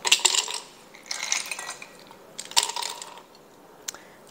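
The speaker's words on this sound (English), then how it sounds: "So we're gonna put our ice in here." Ice cubes dropped into a glass of freshly stirred Southern sweet tea with lemon slices: a few sharp clinking, crackling bursts close by, in separate clusters with short pauses and a final small clink.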